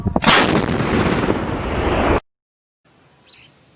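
ATAGS towed artillery gun fires once, a loud close blast followed by a sustained roaring boom that cuts off abruptly, then near silence with a faint distant sound after.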